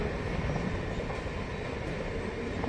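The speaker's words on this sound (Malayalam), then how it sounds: "നമ്മുടെ ട്രെയിൻ അങ്ങനെ ഇതപ്പോൾ ഇവിടുന്ന് വീണ്ടും പുറപ്പെട്ടിരിക്കുകയാണ്" A MEMU commuter train pulls out of Bangalore Cantonment station, giving a steady, loud broadband rumble that holds evenly throughout with no voices.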